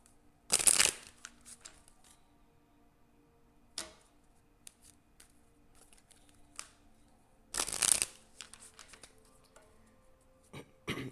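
Oracle cards shuffled by hand in two loud, brisk riffling bursts, with quieter card handling and tapping between them in a quiet room.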